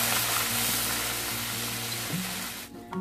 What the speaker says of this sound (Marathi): गरम मसाला आणि हळद हे तिन्ही मसाले मिक्स करून आपल्याला परतून घ्यायचे आहेत